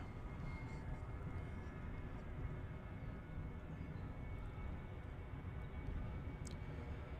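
A Ryanair airliner near Manchester Airport sends a steady, distant jet roar that holds evenly throughout, quiet and without speech.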